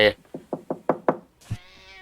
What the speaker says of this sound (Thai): มีคนมาเคาะประตู